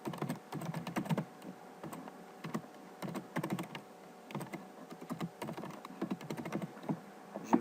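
Quiet, close typing on a computer keyboard as a Gmail address is entered: quick runs of soft key clicks with short pauses between bursts, no voices.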